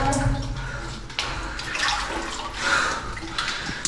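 Water rushing steadily through an underground pipe leading to a river cave, a continuous hissing, splashing flow that surges and recedes, close and loud with brief movement noises.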